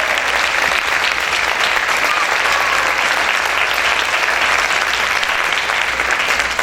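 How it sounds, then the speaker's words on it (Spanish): A church congregation applauds loudly, with dense, sustained clapping from many hands filling the room at a constant level. "¿Cuántos pueden aplaudir fuerte al Señor?"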